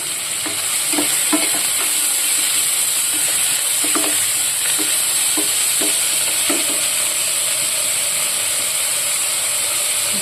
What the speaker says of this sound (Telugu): మనం పెట్టుకున్నటువంటి ఉల్లిపాయ వేసేసుకోవాలి కొంచెం కరివేపాకు అండి